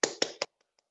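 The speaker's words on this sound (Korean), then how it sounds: "큰 박수로 모시겠습니다" Three sharp, close hand claps in quick even succession welcoming a speaker to an online lecture, followed by near silence with a couple of faint ticks.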